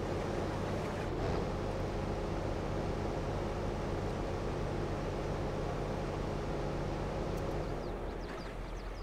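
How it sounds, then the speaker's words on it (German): A farm vehicle engine runs in the video game Farming Simulator 22, a steady droning rumble holding level and constant throughout with no talk. "Machen wir erstmal den Motor aus hier."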